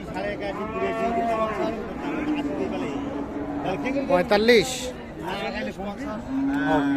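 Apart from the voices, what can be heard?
cow mooing at a cattle market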